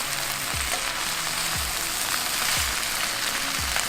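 Steak and chicken fajitas with onions and peppers sizzle steadily over a Weber charcoal grill, a dense close crackle broken by four evenly spaced scraping stirs.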